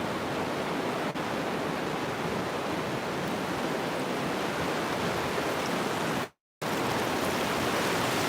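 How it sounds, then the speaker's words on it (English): Ocean waves on the beach at Mission Beach, San Diego: a steady, loud, broadband roar of surf with no distinct breaks, briefly cutting out to silence near the end. "Miles of open beach here in San Diego"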